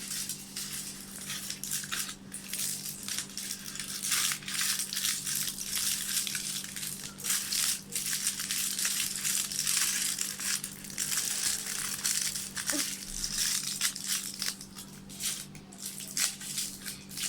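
Craft material crinkles and crunches steadily as it is wrapped around a pen to make a homemade touchscreen stylus, a close, continuous rustle with only brief pauses.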